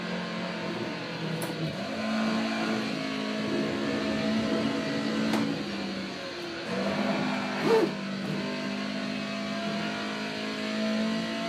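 Toyota AE86 engine revving repeatedly in the Assetto Corsa racing game, a steady mid-pitched engine drone rising and falling with throttle throughout, fairly loud and without talk.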